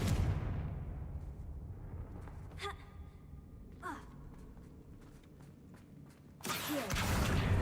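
A Confringo fire spell blast in the Hogwarts Legacy video game hits as a loud burst that fades over a couple of seconds. Softer whooshing magical effects follow, then another forceful burst near the end.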